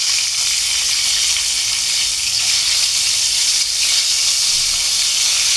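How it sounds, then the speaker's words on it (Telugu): Boiled eggs frying in hot oil in a pan, a loud, continuous sizzle and hiss that holds steady throughout with no talk over it. "ఎగ్స్ అన్నీ వేసేసుకొని ఒక 2 నిమిషాలు ఎగ్స్ అన్నీ కూడా ఇట్లా ఆయిల్లో మంచిగా ఫ్రై చేసుకోవాలి"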